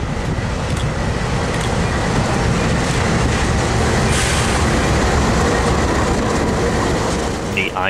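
Illinois Central C40-8W locomotive IC 2466, an LMS-built unit in its original blue paint, hauls a freight train near Jackson yard. It passes close with a loud, steady rumble and rattling wagon clatter throughout.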